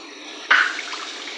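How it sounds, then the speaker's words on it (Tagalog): Tap water gushes suddenly onto a pressure cooker sitting in a sink, a loud splashing burst that settles into a steady hiss of running water. "Buhusan muna ng tubig para hindi siya sumabog."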